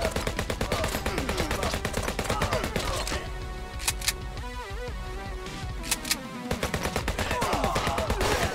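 Rapid automatic gunfire from the video game HyperParasite rattles in fast, dense bursts, loud and close, pausing briefly midway with a few single shots before resuming the steady stream.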